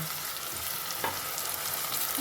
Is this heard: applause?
no